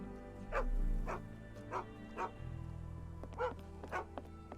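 Dogs barking in the Sherlock Holmes The Awakened video game, a string of about seven sharp barks at an uneven pace over a steady low game hum, moderately near, with no talk.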